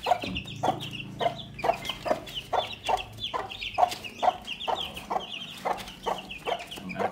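Young roundhead gamefowl chicks peep in a steady run of short, high calls close by, with soft clucking from a hen in the background and no talk.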